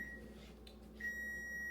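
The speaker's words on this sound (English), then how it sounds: "I'll let that beep at me and finish this." Kitchen appliance beeping as chicken finishes cooking: two steady high electronic tones, one short and one longer, fairly faint over a quiet room hum with no talking.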